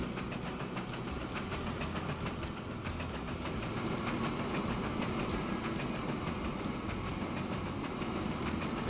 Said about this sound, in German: Da marschiert der kleine Zug.